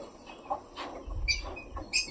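Chickens in a backyard coop give a few faint, short clucks and chirps at a distance over quiet background noise, with no talk.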